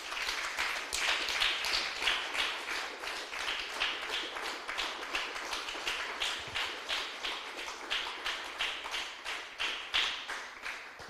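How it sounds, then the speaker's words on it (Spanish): A church congregation claps in a steady, rhythmic beat, many hands striking together in evenly spaced bursts that continue throughout, moderately loud with a roomy feel. "Denle un aplauso fuerte al Señor"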